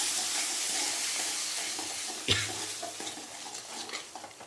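Spiced masala for vegetable biryani is stirred and sautéed in a pan, giving a steady hiss of frying with scraping spoon strokes and one louder knock partway through, close and without speech.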